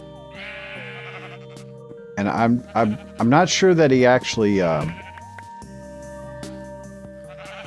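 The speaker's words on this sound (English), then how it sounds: "You can hear him shearing sheep" Repeated wavering sheep bleats from Minecraft sheep being sheared, several close cries in a row over a quiet game background, with someone speaking faintly at the start.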